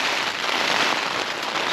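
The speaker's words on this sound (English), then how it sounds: "I didn't think the rain would be this bad tonight, but it really is." Heavy rain drums steadily on a tent during a solo night camp on top of Kinder in a relentless rainstorm, a dense, loud, unbroken hiss of drops right overhead.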